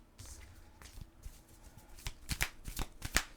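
Tarot cards are shuffled and drawn, giving a close series of crisp riffling snaps and flicks that grow louder and denser toward the end.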